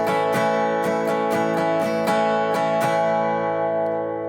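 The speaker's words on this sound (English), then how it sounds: "the strumming pattern plays a 1-bar pattern that sounds like this" Strummed guitar plays a one-bar strumming pattern for a song, loud and close with sharp rhythmic down- and up-strokes over sustained ringing chords that fade out at the end.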